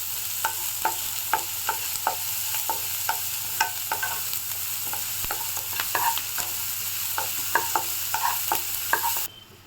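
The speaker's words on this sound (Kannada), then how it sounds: "ಮೀಡಿಯಮ್ ಸೈಜ್ ಈರುಳ್ಳಿನ ಹಾಕ್ಕೋತಾ ಇದ್ದೀನಿ. ಹಾಕ್ಕೊಂಡು ಗೋಲ್ಡ್ ಬ್ರೌನ್ ಬರೋವರೆಗೂ ಚೆನ್ನಾಗಿ ಫ್ರೈ ಮಾಡ್ಕೊಳ್ಳಿ" Medium-sized onions fry in a pan toward golden brown, giving a soft continuous sizzle broken by a steady run of sharp scraping clicks as a spoon stirs them.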